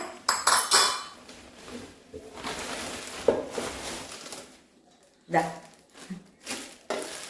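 A new lidded tawa for frying fish is handled, with metallic clanks and lid clatter in bursts, quieter rustling between, and a person talking in the background.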